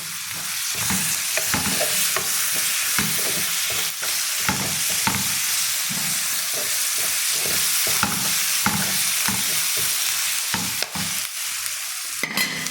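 Garlic, ginger and lemon paste sizzles steadily in a hot pan, with a bright continuous frying hiss and repeated scraping strokes of a stirring spoon, no voices.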